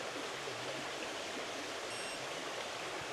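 The River Frome in rural Wiltshire flows past in a steady, close rushing wash that fills the whole clip, with no voices.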